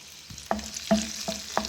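Garlic cloves sizzle in oil in a pan with four sharp stirring clatters spaced evenly, a steady hiss of frying underneath, close and moderately loud.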